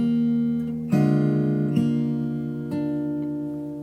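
A fingerstyle acoustic guitar picks out a melody and counter melody together, a few ringing plucked notes struck about once a second and left to sustain, close and solo.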